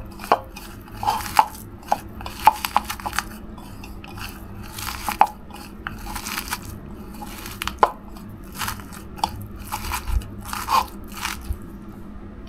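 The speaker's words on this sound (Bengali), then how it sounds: "একদম হাতে চটকে চটকে সুন্দর করে মাখিয়ে নিতে হবে" Hands squeezing and mashing spices into dough for savory noonjhal pitha, giving sharp, irregular crunchy squelches close up over a quiet background.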